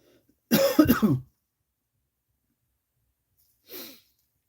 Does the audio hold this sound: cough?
yes